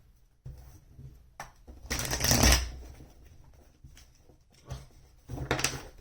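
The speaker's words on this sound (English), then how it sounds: "Shuffle issues. More shuffle." Tarot cards are shuffled by hand up close in a few bursts, with riffling swells between brief pauses and soft taps as the deck is handled.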